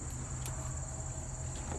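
A steady high-pitched insect drone with a continuous buzzing shrill, unbroken throughout, close and fairly loud.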